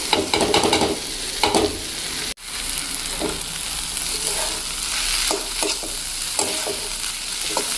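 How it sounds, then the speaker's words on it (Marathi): Roasted okra (bhindi) is sautéed in an oily pan, with a continuous close sizzle, a sharp clunk as it drops in partway, then repeated stirring scrapes against the pan. "आता ही भेंडी घालते यामध्ये"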